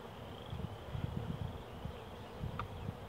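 A steady low buzzing hum of many honey bees in an open hive box during inspection, continuous and moderately close, with no voices.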